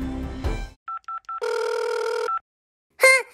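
A phone's electronic ringtone plays nearby: three short beeps, then a longer sustained tone, followed by a brief chirpy burst after a pause.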